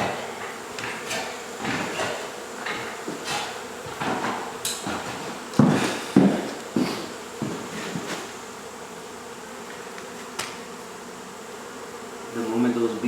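Honey bees buzzing during an indoor hive removal in Mission, Texas: a constant close hum mixed with knocks and scraping as comb is handled, with no talk.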